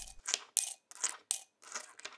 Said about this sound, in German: Die Münzen werden gezählt.